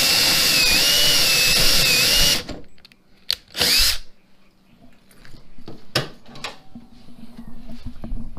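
A power drill bores a hole through the trunk lid of a Ford Mustang to fit a new spoiler, a loud high whine for a couple of seconds followed by short bursts, then quiet clatter and a few bumps.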